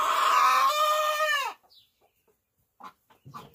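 A speckled hen gives a drawn-out, loud crowing-like cluck that cuts off abruptly, followed by near silence and a few soft, quiet clucks close by.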